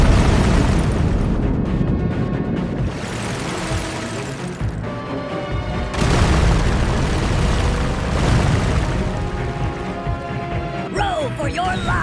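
Deep booming blasts roll out on a sinking ship in a LEGO shipwreck animation, with repeated heavy explosions and rumbling crashes rising and falling over several seconds.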